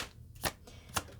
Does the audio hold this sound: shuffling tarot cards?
yes